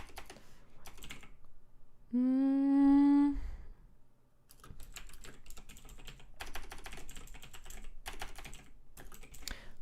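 A computer keyboard is typed on in bursts of quick close key clicks, broken by a short pause during which a single sustained tone sounds before the typing resumes steadily.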